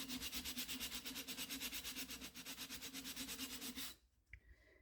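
Sandpaper scrubs glaze off a ceramic fruit bowl in quick, even back-and-forth strokes, close and steady for about four seconds before stopping, followed by a few faint handling sounds.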